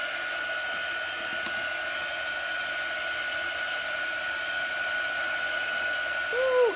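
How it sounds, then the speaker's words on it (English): A heat tool blows a steady, loud whooshing hum at close range while drying chalk paste on a Christmas sled craft, running unbroken without pause and with hardly any talk. "So let's give this a quick dry."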